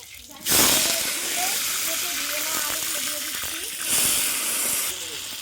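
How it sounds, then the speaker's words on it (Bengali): Potatoes fry in hot oil in a wok, giving a loud, steady broadband sizzle that swells near the start and again toward the end, with a voice faintly audible underneath. "প্রথমে আলুগুলো ভেজে নেব গরম তেলে গরম তেলে"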